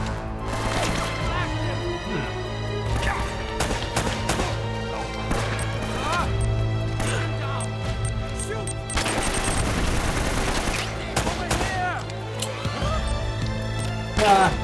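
Dense gunfire in the Uncharted video game, rapid shots and bursts crackling continuously and fairly loud over a steady droning game soundtrack, with no talking.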